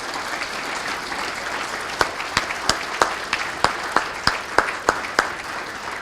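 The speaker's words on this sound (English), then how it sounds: "So, a round of applause for all these participants in Civics Day." Applause for student participants at a civics day event in Hamilton, broad steady clapping throughout, with sharper individual claps popping out regularly in the second half.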